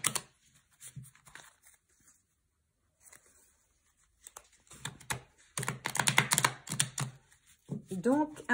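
A tarot deck being cut for a reading, crisp card shuffles and riffles in short bursts between stretches of quiet, with a voice speaking near the end.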